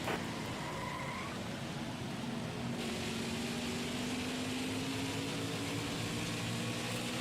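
Race car engines in the NASCAR Heat 5 video game drone continuously, with a steady whine that slowly rises in pitch, heard at a moderate distance with no talk.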